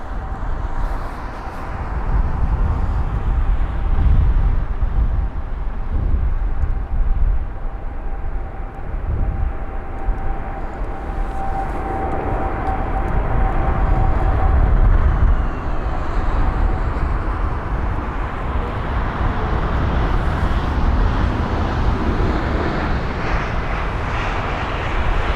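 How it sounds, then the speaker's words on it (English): An Aer Lingus Airbus A320neo at Heathrow produces a rumbling engine drone with low, gusty rushes, moderately loud and continuous, rising and falling gently over the span. "So the Aer Lingus A320neo."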